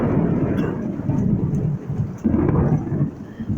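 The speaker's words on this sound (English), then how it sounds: "Little thunderstorm rolling through." Thunder from a night thunderstorm at 1 a.m., heard from a porch: deep, loud rolling rumbles that swell and fade, with a second heavy roll arriving about halfway through and no one speaking.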